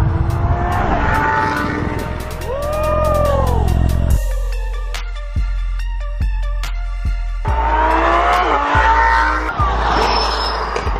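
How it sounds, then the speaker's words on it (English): A Lamborghini sports car in Dubai revs and accelerates hard, its engine note sweeping up and down with sharp gear-change blips, loud and close with no talk. "He just bought another Lamborghini, but this one's a bit special."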